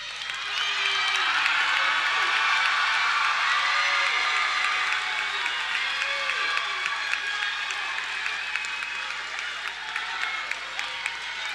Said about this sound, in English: Turn around and show them a round of applause